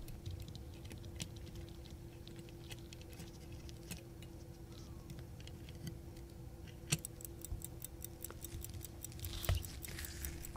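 A vintage Bunn Special pocket watch ticks after its balance has been installed, with quick, even ticks heard close up over a low background hum. The ticking is faint at first and grows clearer in the latter half.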